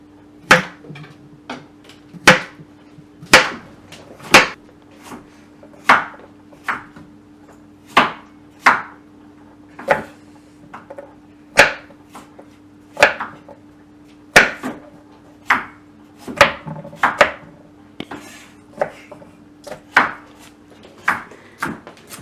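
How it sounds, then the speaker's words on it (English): A knife chops a cucumber steadily on a cutting board, about two dozen crisp, sharp strikes at a brisk, slightly uneven pace, close up with no talking. "I'll be chopping up the cucumber and then slicing it and then dicing it"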